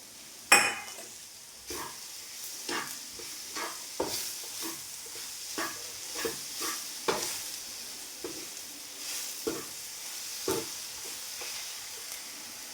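Bananas fry in butter with sugar in a pan, a steady soft sizzle under repeated spatula scrapes and stirring strokes about once a second, close and fairly quiet, with no talking.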